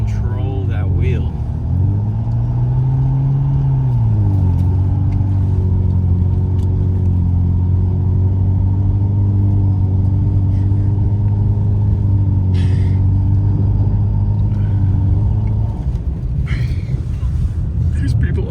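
A BMW 335i driving on a snowy road in a blizzard, its engine droning in a steady low rumble with a brief rise in pitch, road and wind noise throughout, and people talking over it.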